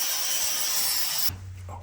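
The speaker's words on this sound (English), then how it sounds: "And more sanding." A power sander working on an old 65-year-old vise, a loud steady high whir that suddenly cuts out, leaving a low hum as the machine winds down.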